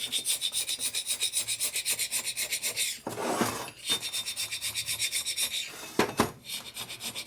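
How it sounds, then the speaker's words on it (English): A gasket scraper rasps old gasket material and carbon off the cylinder head of a 1990s Harley-Davidson Sportster 1200, in quick rhythmic back-and-forth strokes up close, broken by a few harder scrapes. "Just scrapes off the gasket nicely."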